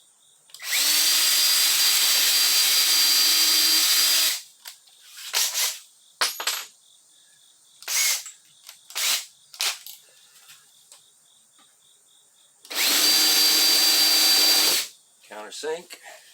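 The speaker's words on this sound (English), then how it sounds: "Go to the other side and drill it." During a chuck wagon trailer build, a power drill bores into wood in two loud, steady bursts of a few seconds each, with several short clicks and knocks of handling between them.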